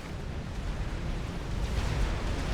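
Artillery explosions roll through a strategy video game battle as a continuous, dense, booming rumble with no clear gaps between impacts.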